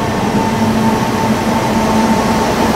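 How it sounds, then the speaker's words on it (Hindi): Indian Railways train hauled by an electric locomotive, a steady loud rumbling roar of the moving train with a sustained hum and no gaps. "यहाँ पे तो इलेक्ट्रिक लोकोमोटिव भी आ चुका है"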